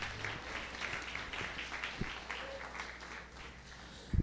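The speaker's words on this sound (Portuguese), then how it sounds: "Pode aplaudir o Senhor." A congregation applauding in a Portuguese-language church service makes a steady, moderately quiet patter of many hands, ending in a sudden thump.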